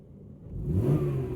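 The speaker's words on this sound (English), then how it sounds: "it just revs so freely, and it's got a lovely note, as you can no doubt hear as well" A used Toyota car engine revs up quickly from a low idle, the rising tone swelling loud and holding briefly near the end.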